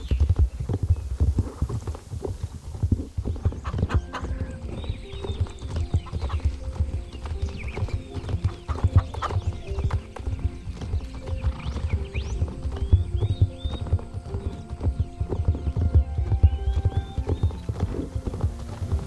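Horse hooves clip-clop in a steady, continuous rhythm in the Star Stable Online video game, close and clear throughout with a low hum beneath.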